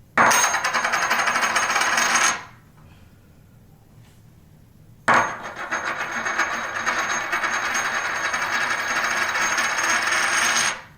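A suspected fake silver coin is dropped and rings with bright, sustained metallic spinning and chattering, stops for a few seconds of near silence, then is dropped again and rattles for a long stretch, close and alone.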